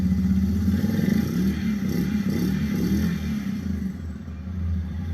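Suzuki King Quad 750 ATV engine with a hard-starting, stalling fault runs at close range, a loud continuous throbbing rumble that swells and eases through several revs with mechanical clatter underneath, no talking.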